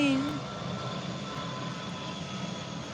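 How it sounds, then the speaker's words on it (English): A loud airplane passes overhead in a steady broadband roar with a droning engine hum, close and constant, with a brief faint tone at the start. "A loud freaking plane."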